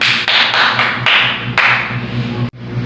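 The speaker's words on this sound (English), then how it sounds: "let's give ourselves a clap" A class of students claps for themselves in a classroom, a short, loud round of close hand claps in a rough steady rhythm with a low hum underneath, ending abruptly.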